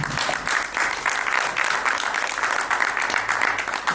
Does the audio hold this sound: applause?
yes